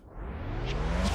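Reversed tape stop on a full instrumental mix in FL Studio: music rises from a low, slowed smear, its pitch sweeping upward and swelling in loudness over about a second.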